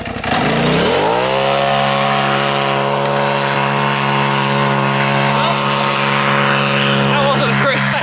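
A brand-new Polaris RZR Turbo S side-by-side revs hard as it slides out, its engine climbing quickly and then holding a loud, steady roar near the listener, with people talking over it.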